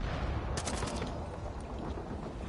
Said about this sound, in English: Someone's on the mortar. I hear that.